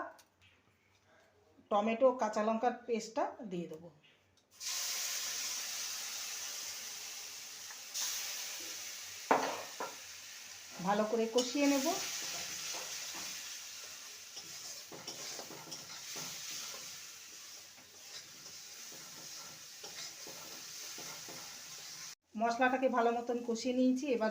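Taro root with asafoetida and ginger is sautéed in a pan, with a continuous sizzle and stirring under stretches of someone talking at the start, in the middle and at the end.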